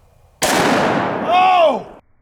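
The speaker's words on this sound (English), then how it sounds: "This is my Smith & Wesson 41 Magnum, and I have some 41 Magnum 210 grain jacketed hollow points by Underwood ammo." A single loud, close gunshot from a Smith & Wesson .41 Magnum revolver firing 210-grain Underwood jacketed hollow-point ammunition into a zombie torso target, with a sharp blast and a ringing decay that lasts over a second.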